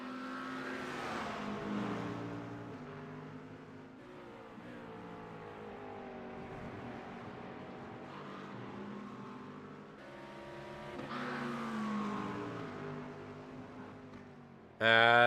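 Race cars on the Oulton Park circuit, engine drones rising and falling as cars pass at a distance, with one louder burst at the very end.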